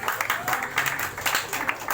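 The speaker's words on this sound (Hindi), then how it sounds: "चलिए, तालियों के साथ इनका स्वागत कीजिए" Audience applause welcoming a prize winner at a maths toppers quiz prize distribution program: steady, moderately loud clapping from a group of people, continuous throughout with faint voices mixed in.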